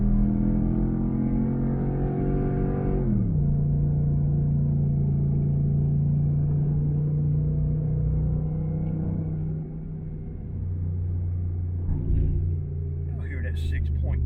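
A 6.2 liter gasoline engine idles steadily in a loud, continuous low rumble, with a brief pitch drop early on and some faint clatter near the end.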